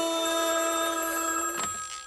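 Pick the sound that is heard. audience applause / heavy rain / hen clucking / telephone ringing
telephone ringing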